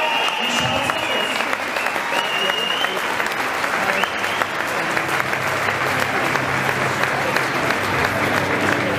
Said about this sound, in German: der kriegt nochmal einen extra lauten Applaus von euch